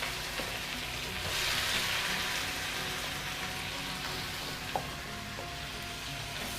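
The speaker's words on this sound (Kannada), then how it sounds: "ಈರುಳ್ಳಿ ಸ್ವಲ್ಪ ಫ್ರೈ ಆಗಲಿ" Onions frying in a pan with ginger-garlic paste for spicy egg masala curry, a steady close crackling sizzle with occasional soft clicks of a utensil.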